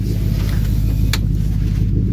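A Ford P71 idles steadily and close by, a continuous low rumble with no revving, heard alone.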